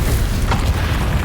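Confringo blast spell in Hogwarts Legacy, a loud rumbling boom that sustains with a short sharp burst midway, heavy and close.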